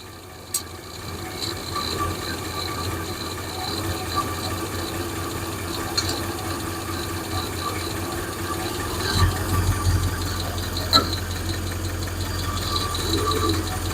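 A Hemi engine idles steadily with a ticking, clinking lifter, a continuous close mechanical drone broken by occasional sharp clicks and knocks throughout.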